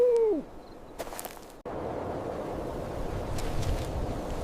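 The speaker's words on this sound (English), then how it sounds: "The hoot of an owl might signal a coming death." An owl hoots at night in the desert borderlands, a clear descending call near the start, then only faint wind and background noise for the rest.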